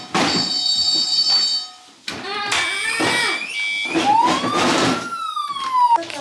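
A toy fire engine plays an electronic siren, loud and close, with wailing and rising-falling tones mixed with clicks and clattering from toy handling and other toy sound effects.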